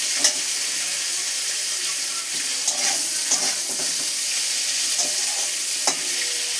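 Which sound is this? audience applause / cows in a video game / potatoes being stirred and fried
potatoes being stirred and fried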